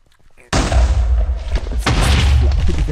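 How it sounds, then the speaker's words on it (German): Meat thrown by enemies in a video game explodes with a sudden heavy boom, then a rumbling, crackling blast tail keeps roaring loudly, with a second burst about a second later. "Die werfen Fleisch, das explodiert."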